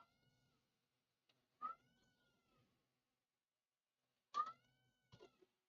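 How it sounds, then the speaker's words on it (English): Indoor house cats meow and yowl in a few separate drawn-out cries with quiet gaps between them, fairly close and with no voices. "as soon as I start streaming, the cats just start screaming themselves"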